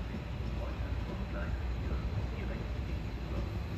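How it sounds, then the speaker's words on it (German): A Stadler Flirt regional train approaches from a distance at Gießen station, heard as a steady, low, even rumble of rail noise with no distinct passing peak. "Aus der Ferne kommt dieser Stadler Flirt."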